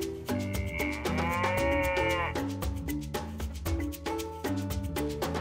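A Dash robot plays a recorded cow moo, a single long, fairly quiet bovine call with clear harmonics that holds for a few seconds and then fades, alone with no talk.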